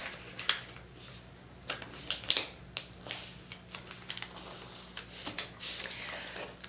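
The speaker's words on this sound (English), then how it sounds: "Flip over and fold in half." Sheet of origami paper folded in half by hand, giving soft close rustles and crisp creasing snaps scattered irregularly at a quiet level.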